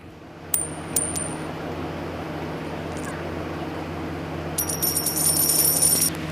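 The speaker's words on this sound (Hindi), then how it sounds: "अब सुनिए सिक्के की आवाज़" Metal coins dropped one after another, a few bright clinks early on and then a rapid jingling cluster of coins settling near the end, close up over a faint steady hum.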